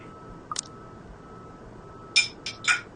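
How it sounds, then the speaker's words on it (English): A few light, bright clinks of plates in a horror visual novel video game, one soft tap early, then a quick cluster of three crisp chinks near the end over faint hiss, no voices. "only the clinking of the plates can be heard"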